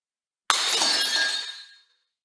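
A glass laboratory beaker breaking, a single sharp crash followed by a bright ringing shatter of falling shards that decays over about a second, close and loud with no talk.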